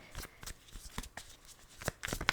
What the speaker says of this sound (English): I'm just going to do the shuffles here for her.